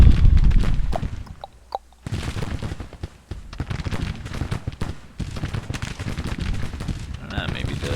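Civil War infantry volleys ring out across the battlefield in Grand Tactician, with sharp scattered rifle cracks and bursts of massed fire over a low rumble, and voices faintly underneath.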